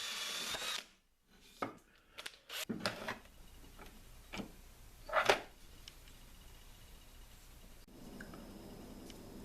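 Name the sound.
drill reaming a hole in wood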